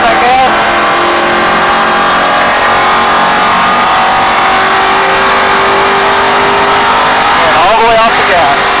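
A NASCAR stock car accelerates on a racetrack during a drive experience, its engine droning loudly and steadily close by, rising in pitch near the end, while a voice talks over it.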